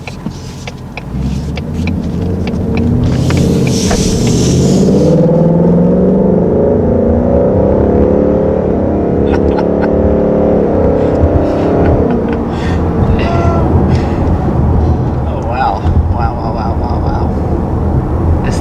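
A 2020 Ford Mustang GT V8 accelerates hard from up close, its loud engine note climbing steadily in pitch with a rising roar over most of the stretch before easing off.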